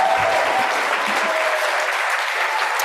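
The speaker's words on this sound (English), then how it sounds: "I just would like for all of you to join me in giving a round of applause for Carmen." Audience at a community leader symposium applauding, a close, even burst of clapping from many hands sustained throughout, with a few faint voices mixed in.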